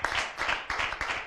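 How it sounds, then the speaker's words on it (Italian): Brief burst of hand clapping at a cyclocross race awards gathering, a few sharp rhythmic claps close by, loosely paced and short. "Fatemi un applauso"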